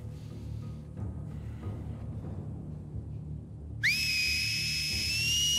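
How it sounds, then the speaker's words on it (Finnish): An enemy in The Last of Us Part II gives a sharp two-tone whistled signal, bright and sustained, cutting in abruptly after a stretch of quiet rumbling game ambience. "Pisti vihellyksen. Vihellykseks oikein kunnolla."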